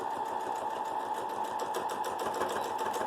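A sewing machine back stitches an Olson face mask, with a steady, fast, close mechanical whir and needle clatter running without pause and no voices.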